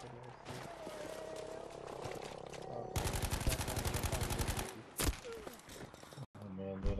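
Gunfire from Battlefield 5 gameplay, with a rapid burst of shots in the middle and a sharp single crack near the end, set among constant game noise while players chat over it.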